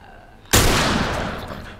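One loud video game gunshot from The Last of Us Remastered cracks suddenly after a quiet moment, its blast decaying slowly into a long echoing tail.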